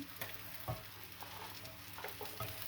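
Chili frying in a pan for a home-cooked dish, a soft continuous sizzle with a few scraping stirs and small pops, fairly quiet and with no one talking.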